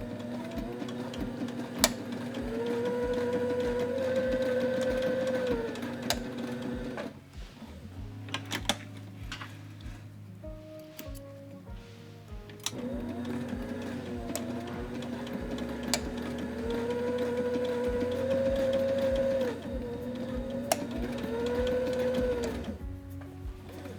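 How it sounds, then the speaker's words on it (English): A sewing machine stitches a webbing hem in long, steady, whirring runs with a rapid mechanical rhythm. The runs break for a few seconds of clunks and handling, then the stitching resumes. "we're gonna sew it into place"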